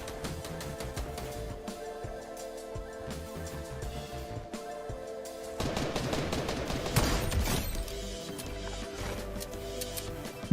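Gunfire in a Fortnite match, including a sniper rifle shot, with repeated sharp cracks and bursts over a busy game soundtrack and a louder flurry of shots midway.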